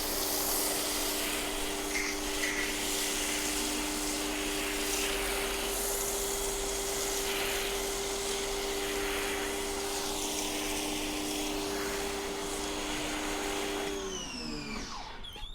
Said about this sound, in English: I'm going to turn my pressure washer off because it just started surging